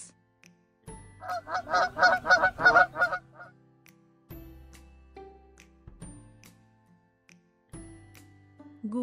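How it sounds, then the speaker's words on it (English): A goose gives a rapid burst of loud, close honks lasting about two seconds, followed by quieter scattered sounds. "Goose."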